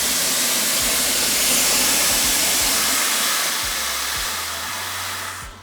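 Water pours into a large 6-litre watering can as a loud, steady rushing hiss that softens slightly toward the end.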